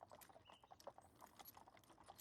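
Clip-clopping hooves of horses drawing a carriage on a trip, a steady rapid patter of hoofbeats at moderate distance, alone with no talk over it.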